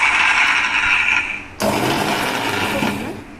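A small mixer grinder jar grinding washed karisalankanni leaves with no added water, a loud whirring motor that shifts to a rougher, denser grind partway through and then eases off.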